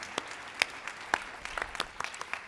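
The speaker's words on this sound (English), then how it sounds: "Yes, clap them." Applause from an audience at a religious gathering, fairly faint and sparse, with scattered individual claps standing out over a thin background patter and no talk.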